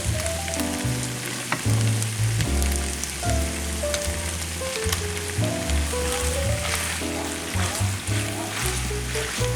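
Italian sausage and bowtie pasta skillet sizzling loudly while being stirred, a dense crackling hiss like rain with scraping stirs, over steady low background music.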